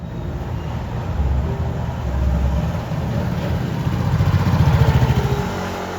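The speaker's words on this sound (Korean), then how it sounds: "낡은 골목을 거침없이 누르는 오토바이들." Motorcycles push through an old alley in the Changsin-dong garment district of Seoul, a steady, close engine drone that swells as they pass, with no talk.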